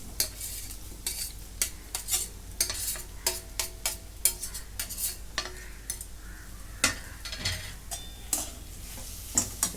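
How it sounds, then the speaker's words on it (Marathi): Boiled potatoes with turmeric being stirred and mixed in a pan for potato bhaji, repeated rhythmic scrapes and taps of a spoon over a low steady sizzle, no voices. "सगळं मिक्स करून घेते"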